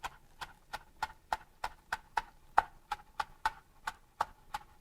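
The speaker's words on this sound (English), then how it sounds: "when you're cutting up these green onions, I've been cutting off the ends" Knife chopping green onions on a cutting board for a slow-cooked pork lettuce wrap: about fifteen crisp, evenly spaced chops in a steady rhythm, close and clear with no talk.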